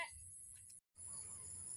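Crickets chirp steadily across rice fields, a thin continuous high trill with a soft low background hum, briefly cut to silence before resuming, faint and distant.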